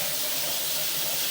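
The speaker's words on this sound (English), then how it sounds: "Got a little bit of water going in." Water running steadily into a drain liner, a continuous broadband wash and hiss with no breaks, fairly close and alone.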